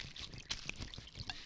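Brandy splashes and trickles onto the ground in a short, uneven pour, quiet and close, with small gurgles and drips in a movie scene.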